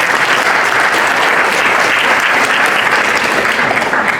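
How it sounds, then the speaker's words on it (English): Audience applause from a seminar crowd, steady and dense clapping that holds at full strength throughout without any talk over it. "Give yourself a round of applause."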